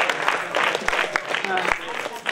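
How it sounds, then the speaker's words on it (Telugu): Students in a classroom clap together for a classmate, a brief burst of dense applause with sharp hand strikes under a speaking teacher's voice. "గంగాధర్ క్లాప్స్ కొట్టండి ఒకసారి."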